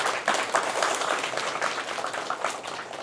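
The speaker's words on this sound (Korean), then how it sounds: "우리 강원랜드도 좀 많이 도와달라고 더 큰 박수를 부탁드립니다." Audience applause at a Gangwon Province development talk about former mining areas and Kangwon Land, with dense steady clapping throughout that is moderately loud, fairly close and unaccompanied by speech.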